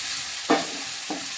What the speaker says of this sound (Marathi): त्याच्यानंतर त्याच्यात अद्रक लसूणची पेस्ट टाकायची आहे, कांदा, कढीपत्ता सर्व एकत्र टाकायचं आहे आणि चांगलं तेलामध्ये पहिल्यांदा त्यांना फिरवून घ्यायचं आहे.